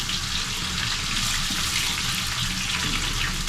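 Chopped onions dropped into hot oil for fried rice, giving a loud, steady, dense sizzling hiss that stays constant throughout with no voices.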